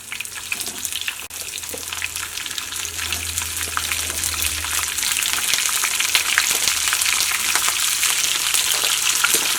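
Chopped vegetables sizzle in hot oil with cumin for a family curry, a continuous close frying hiss that grows slightly louder over about ten seconds with no one speaking.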